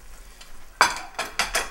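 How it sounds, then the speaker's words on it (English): Mapo tofu sauce boils and sizzles in a pan, a steady low bubbling hiss broken by several loud stirring scrapes and splashes, close and with no talk. "I like the way it's boiling"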